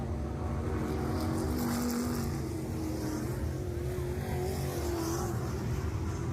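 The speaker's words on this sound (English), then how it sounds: "Jim Bells rim riding through turn 1 and 2 with that 96J truck" Pro trucks race around an oval track in a steady, continuous engine drone, several motors blending at a distance with slowly shifting pitch as they circle.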